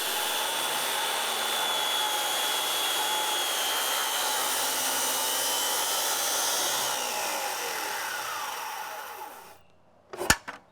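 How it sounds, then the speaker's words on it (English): Power saw ripping an angled 15-degree cut along a marked line for a replacement window sill, a steady high whine that runs for about nine seconds, then cuts off, followed by a few sharp knocks. "Now I have my angle and I can rip my line that I just made."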